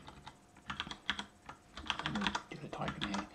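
Rapid, irregular clicking of fingers typing on a computer keyboard while writing C++ code, clattering keystrokes in quick bursts with a person talking faintly over them.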